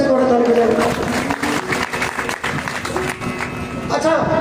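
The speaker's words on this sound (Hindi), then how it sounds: "जोर से थोड़ा ताली बजाए" An audience claps in a hall during a spiritual discourse, a dense patter of hands lasting throughout, with voices and talk mixed in over the clapping.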